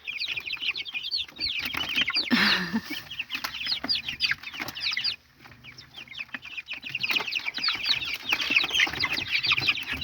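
Hens cluck softly and chicks cheep continuously, close by, with a brief squawk and a short lull midway before the peeping resumes.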